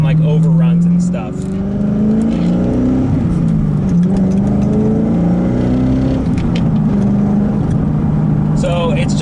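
Mostly stock C5 Corvette, over twenty years old, driving with a deep exhaust growl, a steady loud drone that rises and falls with the throttle, with a brief dip early on.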